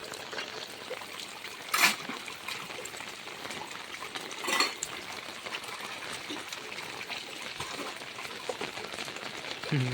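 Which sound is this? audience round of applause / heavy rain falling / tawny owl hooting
heavy rain falling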